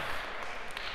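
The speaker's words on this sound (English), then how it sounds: "Maybe a round of applause." A lecture hall audience at a CS50 computer science lecture gives a brief round of applause, heard as a steady, fairly soft wash of clapping with no break.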